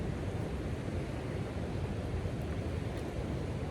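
Continuous broadband rushing of surf fills the clip, a steady wash of ocean noise without distinct breaks or voices.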